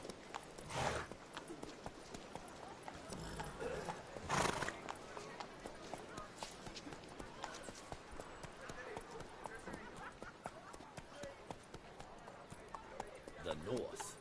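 Roach, Geralt's horse in a Witcher video game, gallops with a continuous patter of hooves. Two louder neighs stand out, one early and one midway, and voices talk over the riding.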